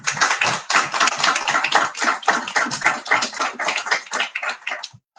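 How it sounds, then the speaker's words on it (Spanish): An audience at a book presentation claps in a close, crisp burst that holds steady and stops abruptly near the end. "Un aplauso, por favor."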